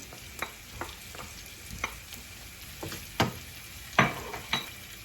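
Chicken frying in a pan as a handful of parsley is stirred in, with a soft steady sizzle under a series of distinct scraping and tapping stirs, several sharper strokes near the end, close and moderately quiet.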